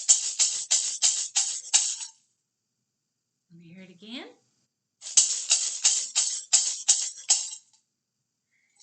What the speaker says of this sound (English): the maraca sounds like this